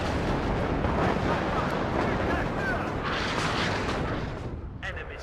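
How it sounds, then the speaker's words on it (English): Rocket artillery firing in the WARNO video game: a sustained, loud roaring barrage of launches and rumbling booms that fades slightly toward the end. "Ooh, rocket artillery."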